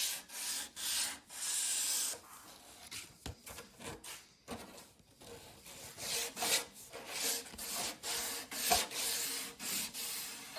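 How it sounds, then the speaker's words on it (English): A wooden studio rack being sanded by hand: close, uneven rasping strokes that rise and fall in irregular bursts with short pauses between, fairly quiet and with no talking. "And some more sanding by hand."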